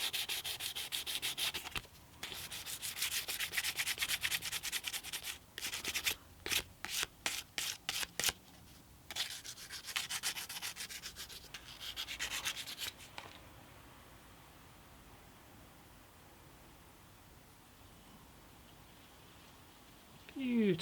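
Close, quick back-and-forth rasping strokes of 400-grit sandpaper rubbed by hand on a part of an antique parlour guitar come in bursts for several seconds, then stop, leaving faint room quiet.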